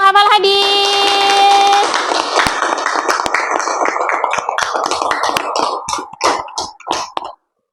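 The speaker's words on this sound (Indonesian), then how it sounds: "kasih tepuk tangan untuk kelompok yang menghafal" A classroom group applauds after memorizing a hadith, dense clapping from many hands that thins into scattered claps and stops, following a ringing chime at the start.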